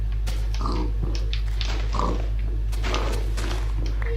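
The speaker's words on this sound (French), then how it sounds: "là, il y a beaucoup de cochons" Pigs in the video game Minecraft give several short, scattered oinks over a steady low hum.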